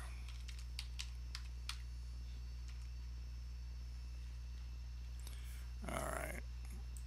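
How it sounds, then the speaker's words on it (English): Typing on a computer keyboard, a brief run of quick key clicks early on and a few scattered taps later, close but faint over a steady low hum. "So I can go up here in my query and I can just type in"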